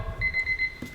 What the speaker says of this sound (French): dès que ça bip, on lève les bras.